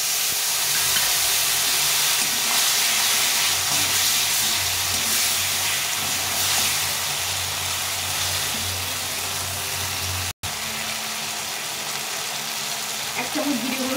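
Water poured into a hot pan of spices, salt and turmeric sends up a loud, continuous steamy hiss and sizzle that holds through most of the stretch, cut by one abrupt break near the end.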